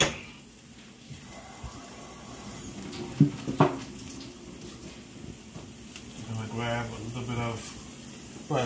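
Chicken pieces sizzle and sweat in a hot pan for a creamy garlic chicken, a steady soft frying hiss with a few scraping stirs and brief clatters.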